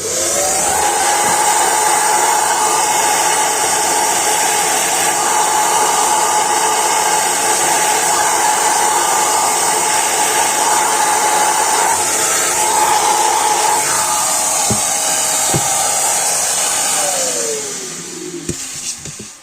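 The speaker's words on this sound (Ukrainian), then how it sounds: "я ввімкну пилосос і буду по чуть-чуть буритись" A vacuum cleaner whines steadily and loudly while a wall is drilled to relocate sockets for an oven, the motor drone continuous for most of the stretch before winding down near the end, with a few knocks and no talk.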